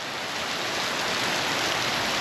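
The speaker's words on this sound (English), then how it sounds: "Got some heavy rain now." Heavy rain pours down steadily at a rainforest resort, a dense, even hiss that fills the scene without pause.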